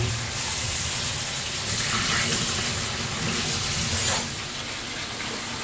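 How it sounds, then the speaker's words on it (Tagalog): Running tap water splashes steadily while a squash is rinsed in a kitchen, a continuous hissing rush with slight surges in intensity. "Banlawan lang yung kalabasa."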